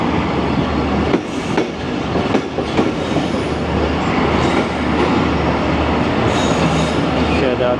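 Zikria Express passenger train at Shahzadpur station, heard from the last coach far from the platform, with rolling wheel clatter, squeals and metallic rumble that stay loud and steady throughout.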